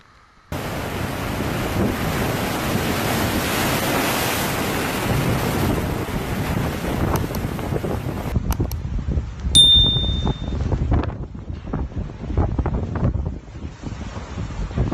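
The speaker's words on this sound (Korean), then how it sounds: "해안에는 거센 파도와 강풍이 몰아치는 모습이" Typhoon Hato drives strong waves and gale-force wind against the Hong Kong coast, a heavy roaring rush of surf and buffeting microphone wind that breaks into gusty surges and crashes in the second half.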